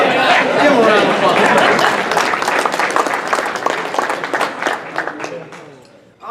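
An audience at a Rotary club meeting bursts into loud, dense clapping that slowly thins and fades over several seconds, with some crowd chatter mixed in.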